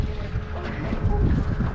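Wind gusting over a fishing boat offshore, a steady broad roar buffeting the microphone with a low rumble from the boat underneath, loud and close throughout.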